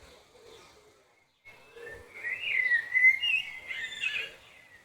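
Whistled bird song, bright chirping tweets rising after a brief pause and carrying on steadily, fairly close and clear with no talk over it.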